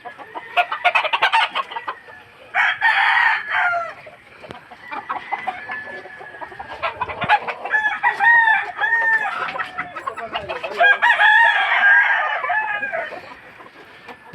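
Fighting cocks on a gamefowl farm crow and cluck in a dense, overlapping chorus, several birds calling at once, loud and close, with repeated crows rising over constant clucking and no talk.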